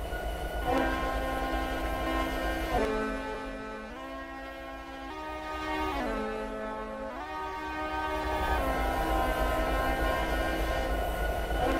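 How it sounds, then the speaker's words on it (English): A low, sustained train horn in the video game Train Simulator 2017 blares in long chord-like tones, shifting pitch a few times over a constant rumbling background. "The train horn works, but it's way too quiet."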